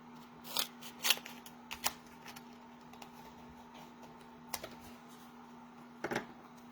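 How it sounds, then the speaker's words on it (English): A few sharp scissor snips trim an adhesive sheet close up at irregular intervals, some in quick pairs, over a quiet background with a faint steady hum. "we'll just use our scissors."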